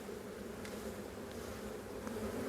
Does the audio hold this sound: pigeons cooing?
no